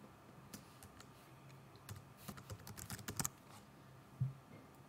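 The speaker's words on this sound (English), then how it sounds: "so I can type it entirely" Computer keyboard typing in a quiet room: scattered single keystrokes, then a busier run of quick taps and a final clack, close and moderately loud with no voices.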